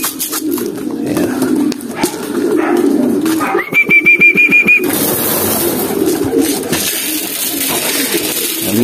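Pigeons coo while being fed indoors, a steady low throaty cooing close by, with a burst of rapid fluttering knocks and a short whistle-like tone partway through.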